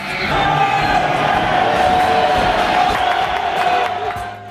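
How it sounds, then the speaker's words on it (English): A large stadium crowd roars steadily at an Oakland Raiders game, heard from field level at the foot of the steps, a dense sustained wash of cheering that swells and then eases slightly toward the end. "Once you get to the bottom of the steps, you hear the crowd"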